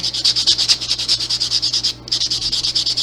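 Rapid, rhythmic scratchy rubbing strokes close up, a nail file sanding down dip powder nails, keeping a steady pace with one brief pause partway through.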